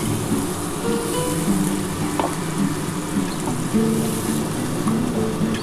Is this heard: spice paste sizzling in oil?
yes